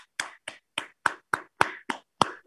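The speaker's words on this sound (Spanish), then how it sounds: "Chicos, vamos a darle un aplauso también a Natalie." Young children in a preschool class clap together in nine spaced, sharp claps, close and distinct with silence between them.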